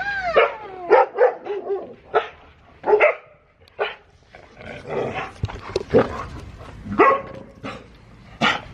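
A dog barks and yips in short, irregular bursts close by, with a few whimpering sounds mixed in between the barks.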